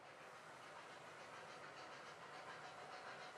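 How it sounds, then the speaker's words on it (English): Model trains running on a multi-level layout, a steady, even rolling hiss with faint clicking of wheels on track, continuous and moderately close, with no talk. "I hope you guys can hear the trains running"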